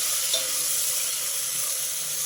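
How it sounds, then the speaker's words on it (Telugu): Long-sliced onions fry in hot oil in a pan for bagara rice, giving a steady, close, bright sizzle that continues without a break, with no voices over it. "ఈ ఉల్లిపాయ బాగా ఎర్రగా వేపుకోవాలి"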